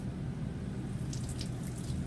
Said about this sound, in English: I'm gonna wash this right at the sink.